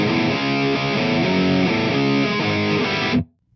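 Distorted electric guitar playing a song's intro riff on open strings: loud, close chugging chords in a steady rhythm for about three seconds, then a sudden stop.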